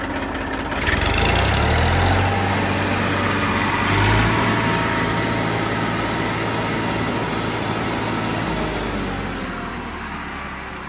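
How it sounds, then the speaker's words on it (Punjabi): An Indofarm 2050 tractor engine cranks and catches, then settles into a steady low diesel idle with a constant rumble and mechanical hum, close and loud with no voices. "ਕਰੋ ਸਟਾਰਟਿੰਗ ਚੈੱਕ, ਇੰਜਣ ਬਹੁਤ ਸੈੱਟ ਆ ਬਾਈ ਟਰੈਕਟਰ ਦਾ"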